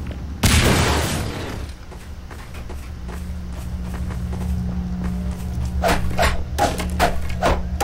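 Grenade blast in Half-Life 2: Episode 2, a single loud, close boom near the start with a rumbling tail, followed by low hum and a few sharp knocks and thuds.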